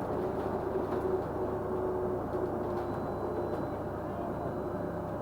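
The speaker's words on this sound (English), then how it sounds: "the main audible components would be the inverters by the back" Inverter and traction motor whine from electric bus SLN 80410 on route SL3, a steady hum with a faint high tonal line running throughout under continuous road and axle rumble, heard from inside the moving bus.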